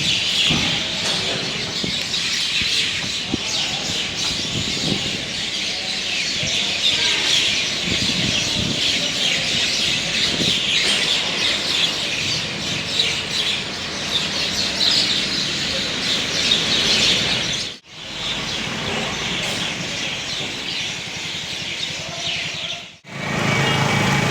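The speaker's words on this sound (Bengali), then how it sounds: "পাখিদের কত সুন্দর কিচিরমিচির।" A dense chorus of birds chirping outdoors, steady and fairly loud, over a low engine-like hum, with two brief dropouts near the end.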